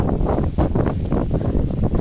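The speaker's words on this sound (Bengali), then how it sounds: "ঠান্ডা হাওয়া তো উপভোগ করা যায়" Steady blustery wind buffeting the microphone with low rumbling gusts, continuous throughout.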